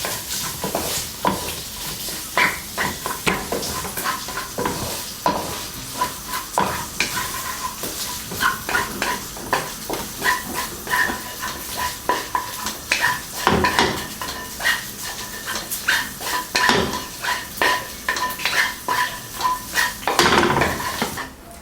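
Green beans and minced pork are stirred and flipped in a wok, loud rhythmic metal scraping and clanking over a constant sizzle, strokes repeating every second or so throughout, with no voices.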